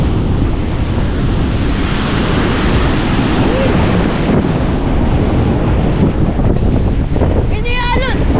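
Surf breaking on a seashore, a steady full-band rush of water with heavy wind buffeting the microphone throughout and a brief boat-like tonal sound near the end; no talk audible.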